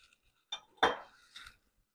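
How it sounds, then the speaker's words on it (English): A metal lid is set back onto a pan of morel mushroom cream sauce, giving a few short clinks and a brief scraping rattle over about a second, close and fairly quiet. "I'm going to put the lid back on."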